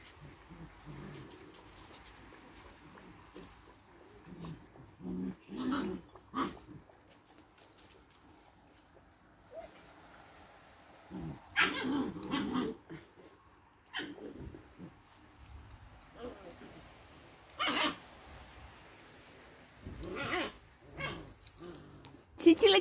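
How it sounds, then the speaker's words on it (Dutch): Dog barking in short, sparse bursts at moderate distance, mixed with pigeons cooing and scattered household sounds, while people talk quietly. "En een blaffert, Joemie."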